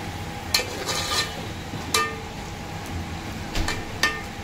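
Two spoonfuls of yogurt sizzle softly in a pan over low gas while a spoon scrapes and stirs, with a few sharp clinks at irregular intervals over a constant faint hiss.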